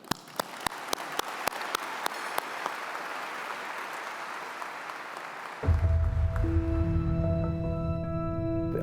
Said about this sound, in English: round of applause, and then let's watch this video